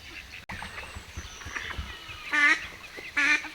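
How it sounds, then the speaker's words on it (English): Two loud, harsh duck quacks ring out close by at a carp fishing lake as evening nears, each a short burst about a second apart, over faint outdoor background noise. "Oh, two ducks there."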